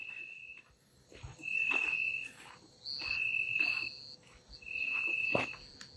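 Crickets chirp loudly at a lagoon at night, long shrill trills repeating in bursts of a second or so, with other insects faintly buzzing in the background and no talking.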